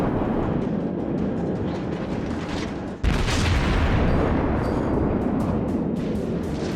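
Naval gunfire in World of Warships, a heavy sustained roar of cannon blasts and rumbling shell noise with a sharp loud boom midway, continuing dense and thunderous afterward.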